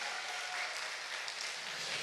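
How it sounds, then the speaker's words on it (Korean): A children's worship service congregation clapping, a dense, even patter of applause heard from a distance and fairly faint, with no break over the short stretch. "박수. 더 뜨겁게 쳐주세요."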